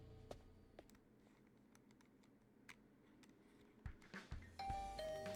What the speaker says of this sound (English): I rang Hiruko's doorbell, but there was no reply.